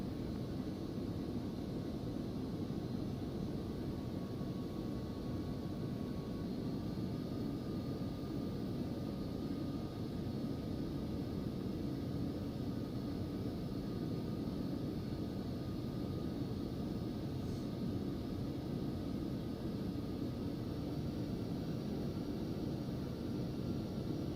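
Phenom 300 business jet taxiing in the X-Plane 11 flight simulator, a steady, even engine whine and broadband roar held at constant level throughout, no voices.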